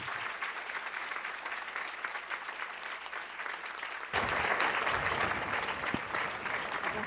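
A lecture-hall audience applauds to welcome theologian Mercy Amba Oduyoye, with steady sustained clapping from many hands that swells noticeably louder partway through and carries on with no speech over it.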